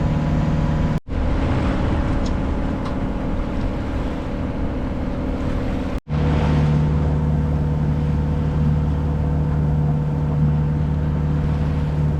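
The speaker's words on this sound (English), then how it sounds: "I don't like the sound of the motor" A sailboat's small auxiliary motor drones steadily with a low hum and wind rushing, interrupted by two brief dropouts.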